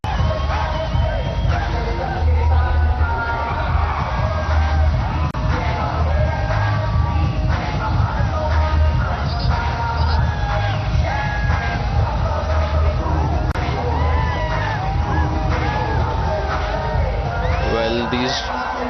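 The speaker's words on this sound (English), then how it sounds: "These girls have a lot to cheer about." A crowd of girls cheering at a celebrity cricket match, with a continuous mass of loud yells, whoops and shouts from many voices, lasting the whole stretch and largely covering any other sound.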